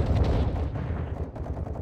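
Dense, continuous gunfire from the Call of Duty Modern Warfare 2 campaign, with overlapping rapid shots and booming reports that stay loud and close throughout, with no pause.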